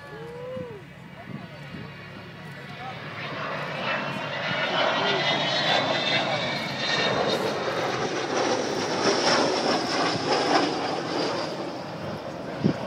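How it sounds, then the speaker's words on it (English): An Avro Vulcan B2 bomber, XH558, flies past at an air show, a broad engine roar swelling steadily with a whistling high edge as it draws nearer, while people talk in the background. "So here she is, your Avro Vulcan B2."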